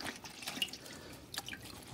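Faint, scattered drips of water falling from a rinsed t-shirt during mattress cleaning with household cleaners, a few soft irregular plinks in a quiet room.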